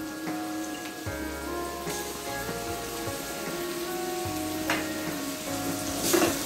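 Onions frying in a pan with turmeric powder and ginger garlic paste for a brinjal and tomato curry, a steady close sizzle with faint stirring scrapes and no talking.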